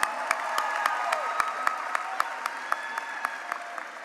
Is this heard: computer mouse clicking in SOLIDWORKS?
no